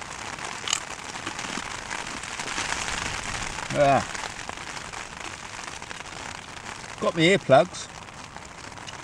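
Steady rain patters on a tent during a storm, a constant soft hiss, while a person speaks briefly a couple of times over it.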